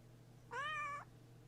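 A cat gives one short, clear meow, fairly quiet against a steady low hum, with nothing else around it.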